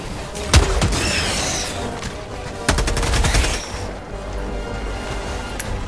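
Gunfire rattles in the shooter Helldivers 2 while fighting Terminids, a loud opening shot followed by bursts of rapid automatic fire and scattered single cracks, fairly close, with little speech.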